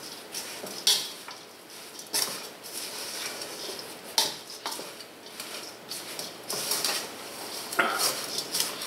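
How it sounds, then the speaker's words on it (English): A utensil stirs tabbouleh salad with cucumbers, onions and green onion in a bowl, giving quiet scraping and clinking with a few sharper knocks against the dish, close and without talk. "Give us a stir and see what we're looking like."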